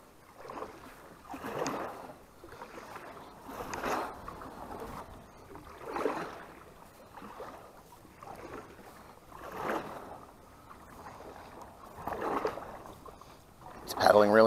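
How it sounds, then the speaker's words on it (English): Paddle strokes on water from an Old Town Pathfinder kayak come as soft, regular splashes about every two seconds, faint and close, with a light breeze in the background. "Paddling really nice."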